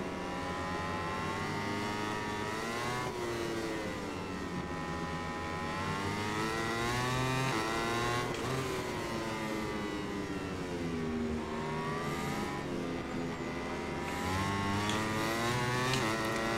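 Racing motorcycle engines scream in the MotoGP 21 video game, one high-revving bike rising and dropping in pitch through gear shifts and corners. The sound holds steady and loud with no talk over it.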